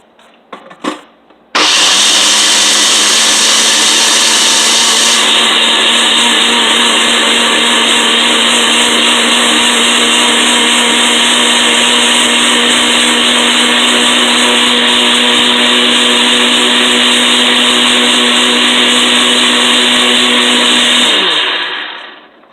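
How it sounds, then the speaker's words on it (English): Cashews and water whir in a blender for gravy. The motor starts after a short pause and drones loud and steady at close range, its pitch shifting slightly early on, then winds down at the end. "we're just going to process this until the cashews are smooth"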